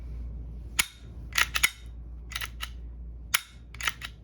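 A BB gun pistol fires at a box, giving sharp, dry snaps in small clusters with quiet gaps between them, close and fairly light against a low background hum.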